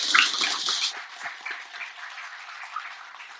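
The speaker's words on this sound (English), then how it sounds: "Big round of applause for Ken." A small audience claps after a wok cooking demo at a bookshop, a burst of brisk applause that is loudest at first and then thins into scattered claps.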